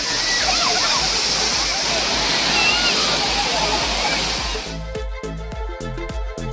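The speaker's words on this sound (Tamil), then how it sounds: "கன்னியாகுமரி மாவட்டத்தில் உள்ள திருப்பருப்பு அருவியில் சுற்றுலா பயணிகள் குவிந்தனர்." A crowded Thirparappu waterfall in Kanyakumari district with tourists bathing, its loud, dense roar of falling water filling the first few seconds before giving way to a rhythmic background beat under a narrator's voice.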